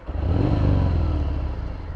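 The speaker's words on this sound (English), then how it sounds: "Engine sounds great." A Harley Davidson Fat Bob motorcycle engine rumbles and revs close by, a deep, steady throaty roar that swells quickly and holds for a couple of seconds.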